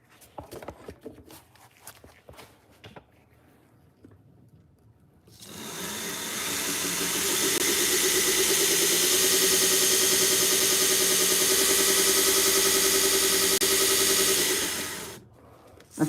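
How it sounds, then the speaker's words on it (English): A 1x30 belt sander sharpening Chicago Cutlery kitchen knives at 17 degrees starts up after a few quiet seconds of handling noise and runs as a loud, steady, close whine for about ten seconds before spinning down. "16 Chicago cutlery knives at 17 degrees on my 1x30 belt sander"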